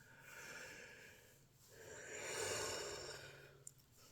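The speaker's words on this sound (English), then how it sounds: "sorry guys, it's rude, yawning all in your faces and everything." A tired person yawning at close range, a long, soft breathy swell that rises and fades over a few seconds, quiet and alone without speech.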